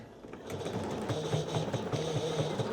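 A home sewing machine runs a long stitch length through layers of skirt fabric, a fast rhythmic mechanical whir and chatter that starts after a brief pause and continues steadily, close and fairly loud.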